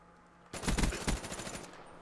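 Automatic FFAR rifle fire in Black Ops 3, a close, loud burst of rapid shots that starts abruptly after brief quiet and rattles on for over a second before tailing off.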